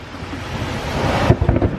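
Thunder from a lightning storm rolls outside a Florida gun shop, a loud, broad rumble building steadily and then breaking into heavier, choppier bursts near the end, with no talking.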